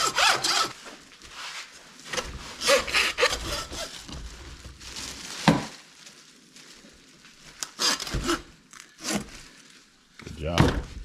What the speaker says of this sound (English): it's easier sawing through the back of the skull than the front of the skull.